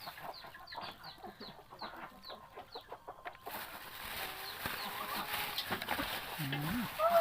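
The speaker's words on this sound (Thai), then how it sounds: "ไก่เนาะ" Chickens cluck in quick, repeated bursts at the Na Kud Chan market, followed by a busier stretch of market noise with voices talking nearby.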